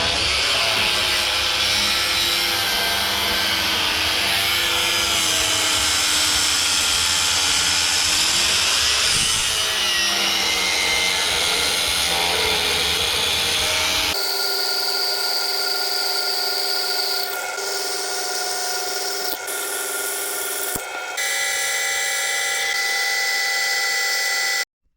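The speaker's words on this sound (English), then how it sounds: "we just drilled all the holes into the bracket that we made" A power drill bores holes into a homemade metal bracket, a loud sustained whine for about fourteen seconds, then continuing in several shorter bursts with brief pauses between them.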